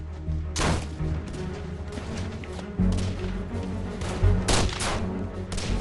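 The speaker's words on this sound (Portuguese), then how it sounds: "Embora alvo do fogo inimigo, Nelson consegue armar a carga." Several sharp gunshots ring out in bursts amid rumbling battle noise and distant explosions during a Second World War attack on the fort at Brest, loud and close, with no voices.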